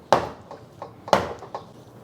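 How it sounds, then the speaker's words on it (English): Garlic cloves being peeled by hand for three cup chicken, giving two close, crisp crackling snaps of papery skin, each followed by a few fainter rustles and small clicks. "I have 4 cloves of garlic. Just going to remove the skin."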